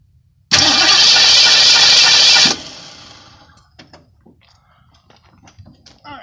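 A 1977 Ford Mustang engine cranks hard and loud for about two seconds without catching, then cuts off, leaving faint rattles, clicks and handling noise close by.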